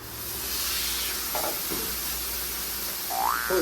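Steak searing in a very hot pan, sticking to the bottom, gives a steady loud sizzling hiss, with brief clanks and scraping from a utensil and a rising whine near the end.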